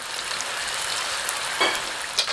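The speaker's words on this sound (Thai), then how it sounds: "ก็ทอดให้แบบสุกเหลืองกรอบแบบนี้เลยนะครับ" Flour-coated snapper deep-frying in hot oil, a dense continuous hiss with a few brighter crackles near the end, close and alone.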